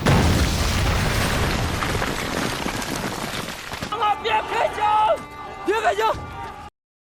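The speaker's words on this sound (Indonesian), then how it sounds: "dengan bom yang ada di tangannya mampu menghancurkan tembok pertahanan dari pihak musuh" A loud, rumbling bomb blast breaching a defensive wall in battle spreads into dense crashing debris noise for several seconds, then fades as agitated voices shout and talk.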